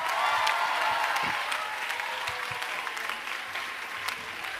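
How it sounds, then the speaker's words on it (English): Sustained applause from an audience at a school band concert, a dense, steady clapping that starts strong and slowly eases off without stopping. "Can we also give a big round of applause for all the teachers that directed tonight?"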